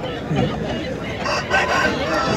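Roosters lined up at a cockfight tournament in Neyveli crow repeatedly amid a noisy outdoor crowd, the calls overlapping with steady background chatter.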